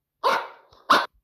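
A dog gives two sharp, loud barks in quick succession, close and clear against silence.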